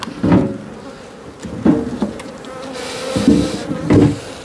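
Honeybees buzz around an open hive during a hive inspection in a dense, continuous drone, with louder swells every second or so as individual bees pass close by.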